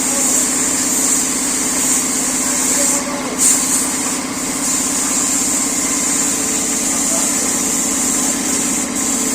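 A paint spray machine runs while colouring a Durga idol in an idol-making workshop, giving a loud, steady mechanical hiss and hum that continues throughout with brief dips.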